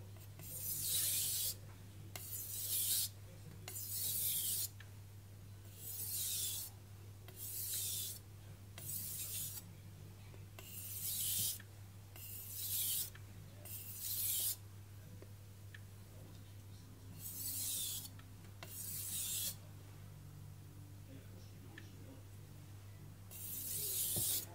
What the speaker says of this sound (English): And just a few alternating strokes to end on the 3000 whetstone.